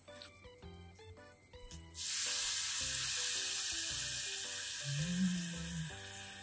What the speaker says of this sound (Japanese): 軽く炒めて、米が白くなったら